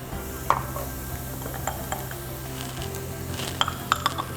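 Ginger goes into a hot pan with onion already fragrant, giving a steady soft sizzle under scattered clinks and scrapes of a utensil stirring against the pan.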